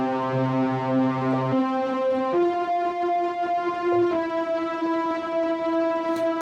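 Blown-out distorted synth in Bitwig Studio plays single sustained notes one after another, each a bright, horn-like buzzing tone with clear harmonics, stepping in pitch, loud and alone.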